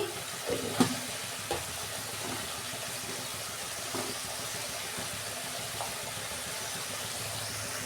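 Tomato and ginger paste fries in a pan with asafoetida and turmeric for a dal and cabbage dish, giving a steady broad sizzle with a few soft knocks near the start.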